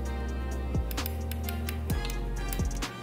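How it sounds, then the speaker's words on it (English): Several soft mechanical clicks from a 4L80E automatic transmission's gear selector detent sound at irregular intervals close by over a low steady hum, like a gear lever notching into place. "that's that little detent when you're shifting"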